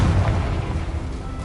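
The Confringo spell blast in Hogwarts Legacy, a deep rumbling boom that swells at once and then decays slowly, loud and close.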